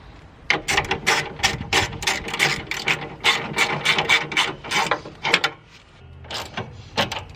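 Rapid clicking of a ratchet wrench snugging a 10 mm headlight bolt on a Mazda Miata, several quick bursts of close, crisp ratcheting that stop briefly, then a few final clicks before falling quiet.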